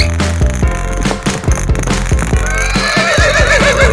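A loud horse whinny rises and trembles, with sharp hoof clops and snorts around it and no talking.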